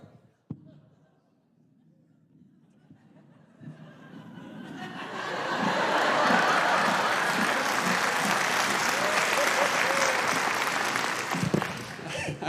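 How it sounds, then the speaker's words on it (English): Applause from a stand-up comedy audience starts thin and swells into a sustained, full round of clapping mixed with some chuckling. It holds steady for several seconds before tapering slightly near the end. "how many of you just clapped because somebody else did"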